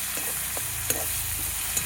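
Garlic chili paste sizzles in a pan over a wood fire on a terrace, a steady bright frying hiss broken by a few soft stirring scrapes and clinks, close up and with no talking.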